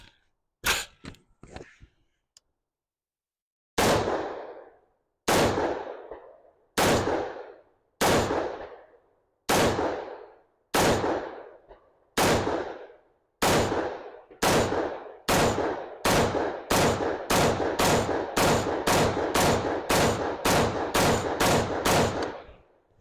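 An AR-15 rifle fitted with a Timney trigger fires at an outdoor range, a few quick early shots, then loud single cracks spaced about a second apart that speed into a rapid string of shots near the end.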